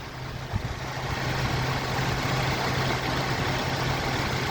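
A 2001 Nissan Frontier pickup truck engine idles with a steady low rumble, close by and constant, with no one speaking.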